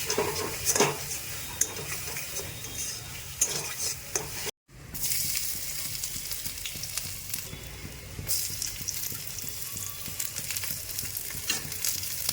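Close, busy sizzling of a single chili frying in hot oil for Maggi noodles, with stirring scrapes throughout and a brief cut to silence midway before the frying resumes.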